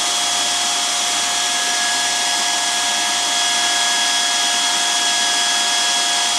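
BAK hot air welding tool blowing while it heats up, a steady airy fan roar with a faint whine, continuous and close, with no talk.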